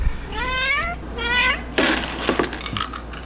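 A pet cat meows twice in quick succession, close and clear, before feeding time, followed by light clinks and rattles of a bowl or food container.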